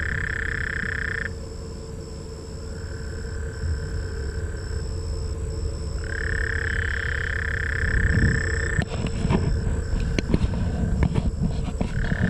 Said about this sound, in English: Big old frog down here somewhere.